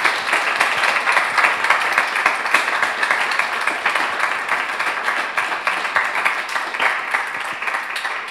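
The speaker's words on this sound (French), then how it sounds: "merci à Frédéric Rugard et Salia Boussedra, qu'on peut applaudir bien fort" An audience at a talk about abolishing prostitution applauds steadily, dense clapping that fills the room and holds at an even level throughout, with no voices over it.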